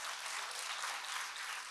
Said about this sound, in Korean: 이거는 박수를 쳐도 됩니다.